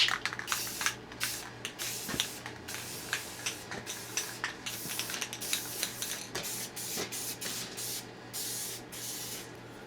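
Spray paint coats a handmade power fist prop in repeated short, loud hissing bursts, close up, each blast sharp-edged with brief gaps between them, continuing steadily with no voices.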